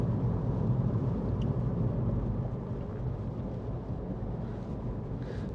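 Strong, cold wind roars steadily throughout on an exposed hilltop, a dense low rumble buffeting the microphone with no letup.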